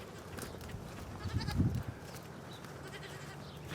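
A goat chained up in a yard gives one short, loud bleat in the middle over quiet outdoor background noise.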